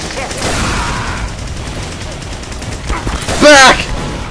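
Rapid gunfire from the Team Fortress 2 video game, with a loud burst of shots near the end over game noise and a player's excited voice.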